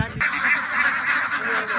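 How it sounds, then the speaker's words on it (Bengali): Several ducks on a riverside duck farm quack loudly and continuously at close range, a busy honking chorus after a brief thump at the start. "এখানে অনেকগুলো হাঁস রয়েছে"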